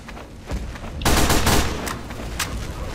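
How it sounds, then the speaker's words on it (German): Gunfire shot into the air in Team Fortress 2, a few sharp shots early, then a dense loud burst of rapid fire followed by scattered single reports, with no talk. "Ich schieße für euch extra in die Luft."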